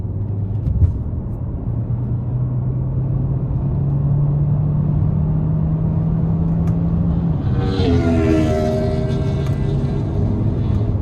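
Heard from inside the cabin, a 2026 Hyundai Santa Fe Hybrid AWD Calligraphy accelerates hard on paddle shifters, its engine drone rising steadily in pitch. Near the end a shift causes a dip in the tone before it climbs again, with no talking.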